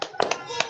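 Children in a classroom clap a short chant rhythm together, a few sharp group claps in quick succession, close and fairly loud, with voices mixed in.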